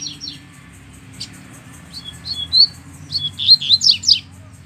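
Double-collared seedeater (coleiro) singing nearby, a series of bright, high chirping phrases that grow louder and denser toward the end, over a low steady background rumble.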